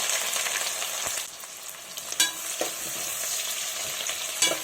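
Onions and green chillies fry in hot oil with cinnamon, cloves and cardamom, giving a strong, continuous sizzle with a few stirring scrapes, close and alone.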